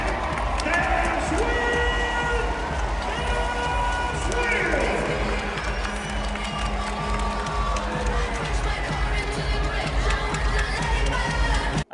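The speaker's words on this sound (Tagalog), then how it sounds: "sumabog ang sigawan, palakpakan at saya sa buong American Airlines Center" A packed NBA arena crowd at the American Airlines Center in Dallas roars, cheers and applauds steadily after a Mavericks win over Houston, with whoops and shouts rising throughout the dense, continuous din.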